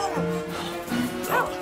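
A dog named Luigi gives a couple of quick yipping barks at close range, fairly faint, amid voices and background sound.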